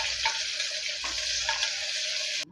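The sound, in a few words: onion and green chili being sautéed in a pan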